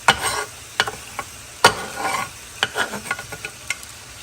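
Cooked green beans are stirred with a spoon in a pan, giving a run of scraping, clattering strokes over a light sizzle, close and fairly loud, with no talking.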